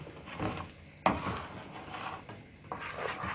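A spoon stirs a sesame mixture in a pot while making sesame candy, with scraping and knocks against the pot, one sharper clack partway through and a final knock near the end.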